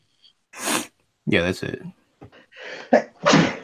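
A short sneeze bursts out near the start, followed by brief speech and another sharp, breathy outburst.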